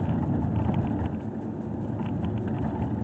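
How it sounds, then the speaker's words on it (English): Steady low rumble of tires on rough, unpaved-quality pavement from inside a moving 2017 Toyota RAV4, constant and fairly loud with no talking. "a lot of this noise is coming from the road"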